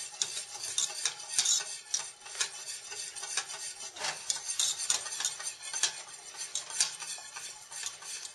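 Whisk strokes scrape steadily through two cups of freshly grated American sharp cheese melting into a creamy sauce in a pot, a fast irregular metallic rhythm with occasional louder clinks against the pan, close and without talk.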